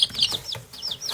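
Two-week-old hatchling chicks peep and cluck in quick, high, chirpy bursts close by, several overlapping calls in a brief busy flurry with no talk.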